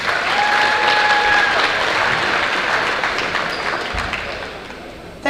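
Audience applause for teachers at an OHSAA girls' high school basketball game between Ashland and West Holmes, a loud, sustained crowd clapping that fades slowly over several seconds.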